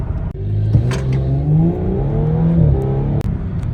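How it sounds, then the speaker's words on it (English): A stock Audi S4 B9 makes a boost launch, its engine loud and close as it revs and pulls hard through rising gears, with brief shift dips and no talking. "I'm gonna do a boost launch for you guys"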